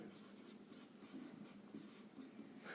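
A maths proof about triangle ABC being written out by hand for a Class 10 geometry exercise, a continuous soft scratching of pen strokes, close and faint, with no voices.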